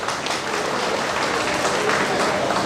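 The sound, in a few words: audience clapping in agreement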